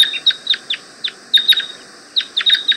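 Red crossbills perched in a tree about 50 yards away give sharp, repeated chip calls, a loose series of clear notes at irregular intervals, fairly close and distinct over a quiet background.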